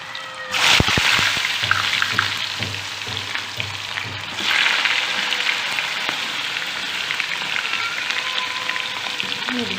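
Thin-cut chicken chips frying in hot oil for restaurant-style dhuan dar chicken chips, a loud crackling sizzle that bursts up as they hit the oil, eases, then surges again midway and keeps bubbling steadily.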